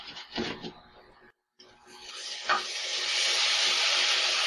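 Gnocchi sizzles loudly in brown butter in a hot pan, a steady bright frying hiss that swells after a brief pause and a few scraping stirs.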